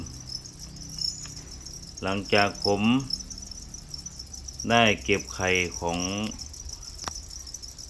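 Breeding crickets kept in a plastic bucket chirp in a steady, high, continuous trill throughout, while someone speaks in the foreground in short bursts.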